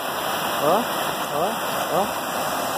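A stream below the São Jorge waterfall rushes steadily as a continuous wash of water noise, with a voice speaking over it.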